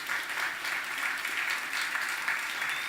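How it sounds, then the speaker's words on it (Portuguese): A church congregation claps together in sustained, even applause during a sermon, a bright, continuous patter of many hands at moderate volume. "Quem vai para dar um aplauso a Jesus por isso?"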